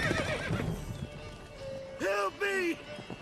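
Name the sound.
horses neighing and clip-clopping in The Witcher 3 video game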